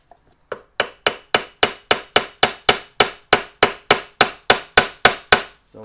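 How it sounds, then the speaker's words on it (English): Seventeen evenly spaced, sharp metallic taps drive a smog pump shaft down onto its dowels during a rebuild for a Toyota FJ40 2F engine, close and crisp in a steady rhythm with no talk. "now I should be able to safely tap it down onto the dowels"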